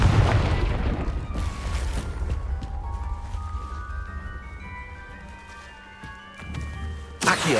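A fiery blast spell going off in the Hogwarts Legacy video game, a loud booming burst at the start, then a long ringing magical shimmer, with another sharp burst at the very end.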